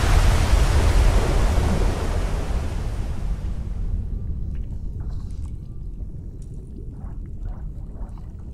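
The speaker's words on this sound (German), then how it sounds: "So, und jetzt bleiben wir schön vor dem Wasserfall." A waterfall in the video game Never Alone gives a loud, steady rushing roar that fades after a few seconds to a softer, continuous watery hiss.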